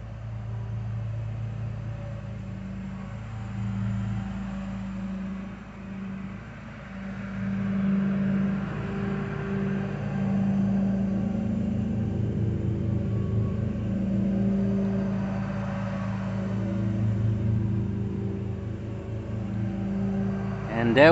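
Outdoor traffic noise from passing cars near a home, a steady low rumble with swelling engine sounds that rise and fade over about twenty seconds, moderately loud throughout.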